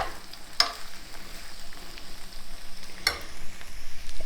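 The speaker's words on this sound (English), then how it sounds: "So now I'm going to toss the peppers" Green and red peppers tossed into a hot pan give a steady, close sizzle, with two sharp clattering hits from stirring or tossing along the way.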